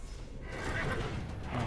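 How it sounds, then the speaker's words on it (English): A horse in the video game Assassin's Creed Brotherhood neighs faintly under a dense wash of battle noise, with hooves clopping throughout the short stretch. "Not the horse."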